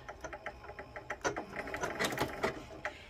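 Domestic sewing machine running a super wide zigzag stitch over cording laid on fabric for a round tuffet, giving a steady rapid mechanical patter with a few brief pauses, close and continuous.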